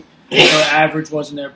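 A person on a baseball talk show sneezes once in a sudden, loud, breathy burst, and speech follows right after it.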